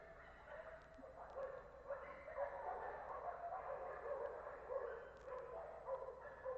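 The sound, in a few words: dog barking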